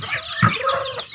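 A small flock of backyard chickens, some of them sick, clucks close by, and a rooster crows in one brief burst. There is no talking.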